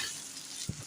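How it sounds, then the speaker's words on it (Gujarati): A spoon stirs dhokla pieces through hot tempering with hing and curry leaves, a faint soft sizzle with one brief scrape near the end. "હવે ચમચેથી હલાઈ નાખવાના છે."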